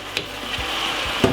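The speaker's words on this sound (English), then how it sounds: "as you can see, still frying on a medium size heat" Oxtail for a Jamaican dinner fries over medium heat in a pot with a steady, close sizzle and a few soft knocks, with no voices.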